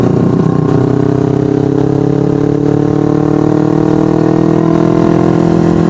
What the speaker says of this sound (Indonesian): ini suara knalpot kedengeran jelas